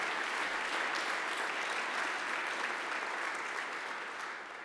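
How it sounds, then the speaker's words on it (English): Applause from the audience at an energy symposium, a dense continuous roar of clapping hands that holds steady and then eases slightly at the end. "I want to give you a round of applause"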